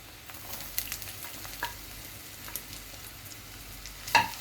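Clam meat frying in a pan and being stirred, a faint steady sizzle with soft scraping stirs and one sharper clink near the end.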